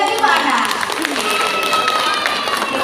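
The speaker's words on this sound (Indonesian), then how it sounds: "Ibu-ibu, tepuk tangannya untuk Bu Romi tadi mana?" Women in an audience applauding Bu Romi at a community gathering, a dense continuous patter of clapping and crowd murmur with voices mixed in, loud and sustained.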